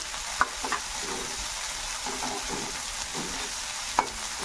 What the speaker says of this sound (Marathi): कांदाही आपल्याला छान परतून घ्यायचा आहे। गॅसची फ्लेम आपल्याला मोठी ठेवायची आहे।